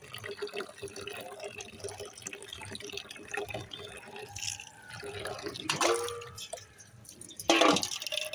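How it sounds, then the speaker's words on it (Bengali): Cauliflower is rinsed in water: soft sloshing and drips with a couple of louder splashes near the end, close and fairly quiet. "দুইবার করে ধুয়ে নেব"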